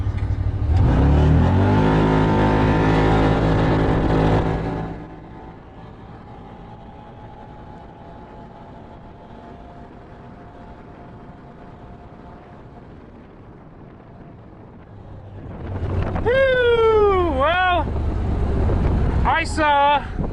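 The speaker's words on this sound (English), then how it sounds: "now here comes the top speed run in the Can-Am Commander 1000R" Can-Am Commander 1000R side-by-side in four-wheel drive high range accelerating hard on a top speed run, a loud sustained engine roar with heavy wind buffeting, easing to a steadier drone before a voice speaks over it near the end.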